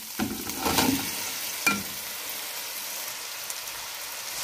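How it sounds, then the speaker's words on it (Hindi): Chicken pieces dropped into hot oil with garlic ginger paste for chicken pulao, bursting into a crackling sizzle with stirring scrapes at the start, then settling into a soft steady frying hiss; close and fairly quiet, no talk. "अब हम इसमें चिकन ऐड कर देंगे।"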